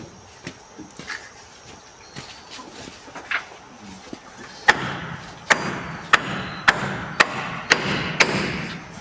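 Hammers strike boards during a chicken coop barn build on a Mississippi homestead; scattered light taps at first, then a run of loud, evenly spaced blows in the second half, close by with faint background noise.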